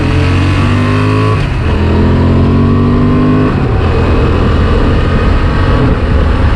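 Honda Transalp motorcycle engine loud and close, revving up through the gears with quick rising pitch sweeps and abrupt quick-shifter changes at about 1.7 and 3.6 seconds, continuing to pull hard.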